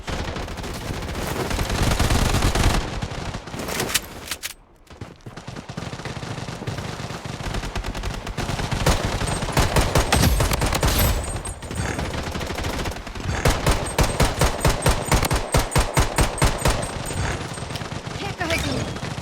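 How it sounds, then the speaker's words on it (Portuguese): Gunfire from the shooter game Blood Strike comes as loud, dense bursts of automatic fire. Near the end it shifts into rapid regular volleys, with game voices heard under the shooting. "Estão atirando em mim!"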